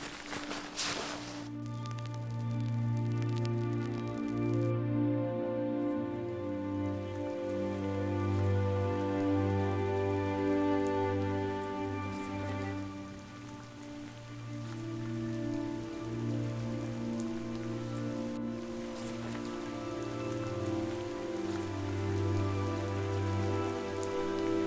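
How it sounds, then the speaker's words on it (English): Heavy spring rain falls steadily on outdoor surfaces, a continuous, close patter that lasts the whole stretch, with a sustained low tonal hum underneath. "this rain has been intense"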